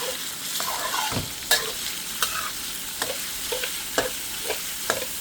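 Pork stir-fried in a pan for Thai basil omelette, a soft continuous sizzle punctuated by regular spatula scrapes and taps roughly every half second.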